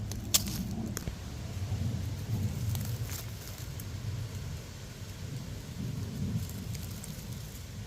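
Steady rain hisses throughout, with low rumbling underneath and a few sharper patters early on.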